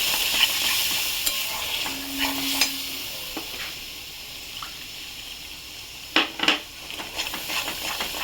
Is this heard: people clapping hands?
no